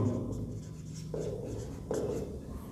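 Chalk or marker scratching across a classroom board while a geometry problem on lines and angles is worked out, with short strokes in a steady, close run and two sharper strokes near the end; no talk.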